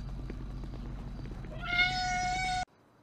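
A person imitates a kitten's meow: one drawn-out, high, nasal mew rising over a steady background murmur, then cutting off abruptly.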